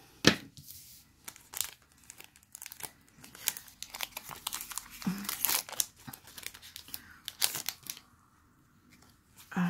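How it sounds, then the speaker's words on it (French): Scissors snip and crinkle through the foil wrapper of a Pokémon XY Evolutions trading card booster pack, close up, with intermittent crinkling, tearing and rustling bursts separated by brief pauses. "C'est pas grave, on va couper le bout."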